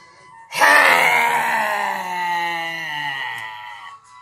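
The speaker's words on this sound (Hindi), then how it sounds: "धीरे धीरे शेर बन जाना है और जिह्वा को बाहर निकालना है और जोर से चिल्लाना है।" A loud, drawn-out vocal roar forced out with the tongue stuck out in the yoga lion pose, rising sharply and sustained for about three and a half seconds before cutting off, voiced alone.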